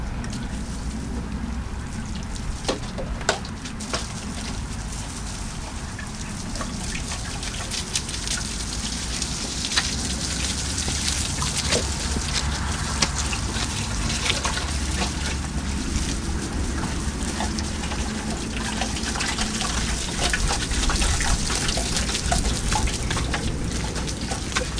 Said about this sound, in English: I'm going to water it all now.